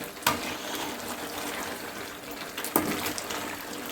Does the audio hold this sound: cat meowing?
no